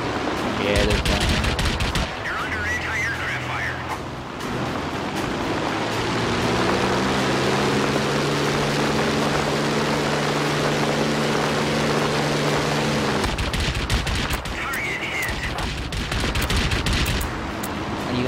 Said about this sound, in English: You're under anti-aircraft fire.